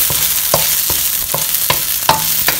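Chickpea sundal with chili flakes is stirred in a pan, a roughly regular series of six or seven loud metallic scrapes of a spoon over a continuous gentle sizzle, no voices.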